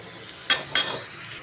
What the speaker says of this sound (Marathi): पुन्हा असं तेलामध्ये छानपैकी असं परतून घ्यायचं आहे आपल्याला.